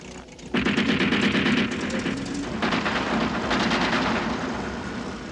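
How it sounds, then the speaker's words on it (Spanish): Rapid machine-gun fire rattles through a desert battle scene in the 1980 war film Lion of the Desert, with a long loud volley starting suddenly and a second sustained burst following, no dialogue over it. "Quizás sean disparos de aviso, señor."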